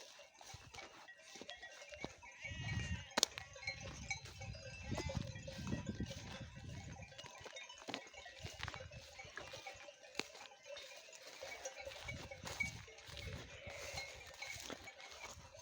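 A flock of sheep wearing bells moves about, with scattered bells clanking and bleats from several animals at a moderate distance, continuing throughout.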